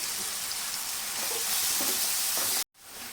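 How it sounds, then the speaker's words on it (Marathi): Finely chopped onions hitting a pan of softened tomato and mustard seeds, a loud, broad, steady sizzle and hiss with faint stirring, cutting off abruptly near the end. "दोन मिडियम साईजचे कांदे बारीक कट करून घेतले ते टाकून घ्यायचे"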